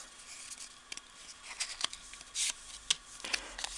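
Small paper cards lifted and handled from a knife's product package: soft, close papery rustles and crisp flicks, with a few sharper snaps scattered through, all quiet and up close, with no voices.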